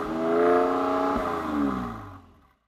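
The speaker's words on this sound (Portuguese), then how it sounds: "eu posso mudar aqui também o barulho do escapamento" Mercedes-AMG GLC 43 4Matic exhaust in sport mode, a single close, loud engine rev that swells, dips slightly, rises again and then tails off into silence, deep and throaty with a rough rumble.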